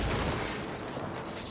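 Turret fire in Cyberpunk 2077 2.0: a dense, unbroken burst of rapid shots, loud and close throughout a brief moment with no voices.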